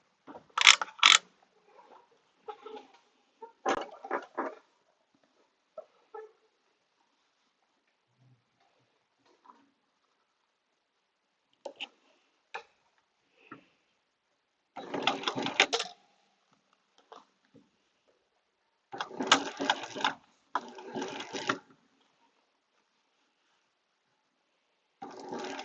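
A sewing machine stitches cornhole bags filled with corn, running in short bursts of mechanical whirring and clatter separated by long silent pauses. The bursts grow longer toward the end.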